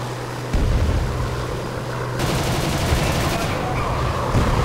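Aircraft gunners' machine guns firing on a P-51 in War Thunder, a dense continuous rattle of rapid bursts over a steady engine drone, loud and sustained throughout.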